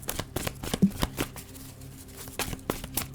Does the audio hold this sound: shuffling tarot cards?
yes